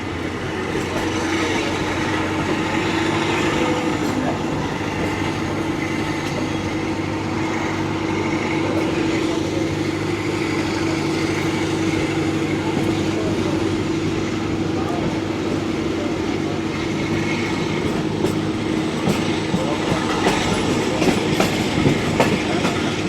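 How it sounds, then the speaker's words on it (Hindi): The Rahman Baba Express, a Pakistani passenger train, picks up speed departing Wazirabad Junction, a continuous loud rumble with faint rhythmic wheel clatter on the rails, steady throughout with no voices. "ड्राइवर साहब ने नोशअप कर दिया है और इसी के साथ ट्रेन की स्पीड बढ़ना भी शुरू हो चुकी है"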